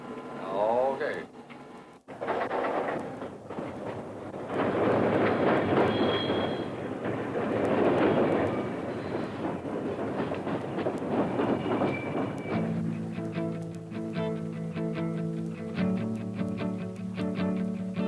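Freight cars roll through a railroad classification yard, loud clanking and rumbling close by, with wheel squeal and a rhythmic clickety-clack of wheels over joints continuing throughout.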